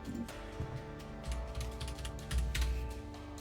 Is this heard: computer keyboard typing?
yes